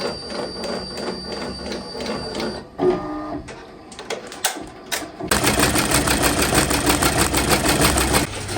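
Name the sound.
embroidery machine stitching out a baby bib design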